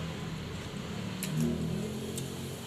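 A steady low rumble of a car engine idling nearby, with a brief rise in pitch and a couple of faint clicks.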